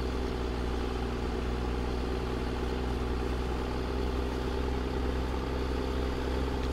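A tractor engine idles steadily in Farming Simulator 17, a continuous low droning rumble with no voices, holding an even level throughout.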